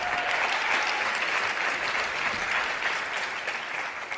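An audience at a TEDx talk applauds in a dense, steady wash of clapping that fills the whole stretch and tapers only slightly at the end.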